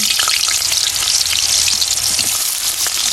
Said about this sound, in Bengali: এদিকে তেলটা গরম হয়ে গেছে, এবার মাছ রান্না করবার জন্য আলুটা ভেজে নিয়েছি।